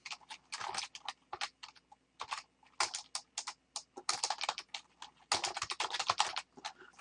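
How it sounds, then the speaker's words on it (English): Keys clatter on a computer keyboard in quick irregular bursts of close, crisp taps separated by short pauses, with no talking. "So I'm just going to go up here and type in structure."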